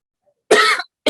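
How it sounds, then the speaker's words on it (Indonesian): A single sharp, close cough bursts out after a brief silence, followed by the clipped start of a second cough. "Sorry batuk."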